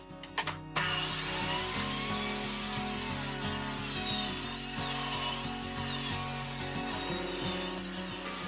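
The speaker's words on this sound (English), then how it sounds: "I'll be milling mine down to strips that are about 1 to 2 inches wide" Lumber being milled into narrow strips for a chair build: a steady, continuous whine of a woodworking machine runs throughout, with a short burst of clatter at the start and no talking.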